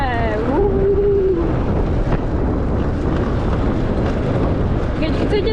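A scooter rides across a meadow, its steady engine and wind roar filling the whole stretch, close and loud, with a voice speaking over it and a brief whistling tone early on.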